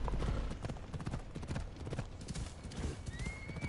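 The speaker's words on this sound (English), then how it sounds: "This horse is in fact the fastest horse in the game." A horse gallops at full speed in the video game Assassin's Creed Odyssey, its hooves pounding in a fast, steady clip-clop rhythm, loud and close, with a brief whinny near the end.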